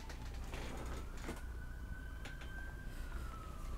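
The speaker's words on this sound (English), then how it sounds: "It's the parade. They're coming outside my house. You're gonna hear sirens and blaring and honking." Faint, distant sirens from a Canada Day parade pass outside a house, with a thin wailing tone sliding slowly downward over a low, steady background rumble.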